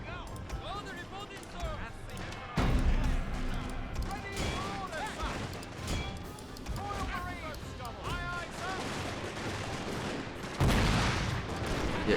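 Artillery fire in a war video game, a series of heavy booms and bursts of gunfire recurring through the clip, with players talking over it.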